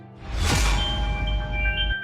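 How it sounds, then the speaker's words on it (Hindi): A mobile phone ringtone sounds inside a home, starting with a bright swell, then sustained ringing tones that hold steadily for about two seconds, with no talking. "ये फोन किसका बज रहा है?"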